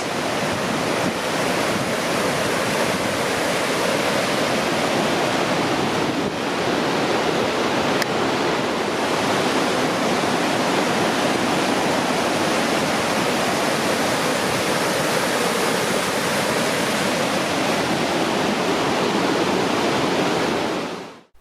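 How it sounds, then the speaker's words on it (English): Mystic Falls in Yellowstone cascading over several rocky levels, a loud, dense, unbroken rush of falling water heard up close, with no voices. "the falls are really more of a cascade than a fall as a true waterfall, as it comes over multiple levels"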